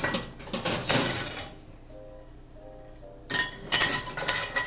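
Someone rummages through dishes piled in a kitchen sink, hunting for a measuring cup. Close clattering clinks of crockery and utensils come in two bursts, separated by a quiet pause.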